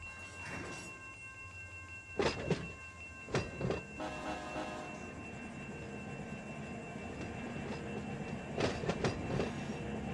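A freight train with tank cars rolls on rails in the Run 8 train simulator game on an ATSF local, with a steady rumble, faint tonal whine, and several clusters of clanking wheel clicks.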